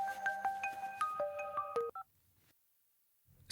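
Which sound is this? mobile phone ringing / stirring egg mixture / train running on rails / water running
mobile phone ringing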